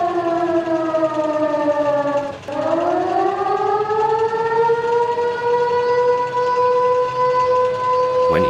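A civil defense style siren wails loud and steady, its pitch dipping briefly then rising and holding in a long sustained tone, heard alone near a rail shed.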